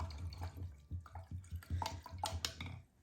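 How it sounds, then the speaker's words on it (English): A paint brush is rinsed in a container of water, giving a quick series of close, soft splashes, drips and sloshes with clinks against the container, quiet and unaccompanied by talk. "Now I'm going to rinse off my brush."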